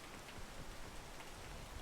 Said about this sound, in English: I'm just waiting for the rain to calm down a little bit because the rain is the silent killer of the jungle.